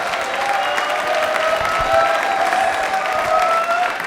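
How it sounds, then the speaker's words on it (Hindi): A studio audience on a Rajasthani TV quiz show claps in a steady, even burst of applause that holds for a few seconds, with light crowd noise mixed in. "तालियां यार एक बार हो जाए भाई"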